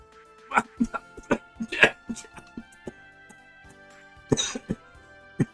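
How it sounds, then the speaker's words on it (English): A person coughs close by in a string of short, dry bursts, with a few throat-clearing sounds mixed in, spread unevenly with brief quiet pauses between them. "I'm actually coughing."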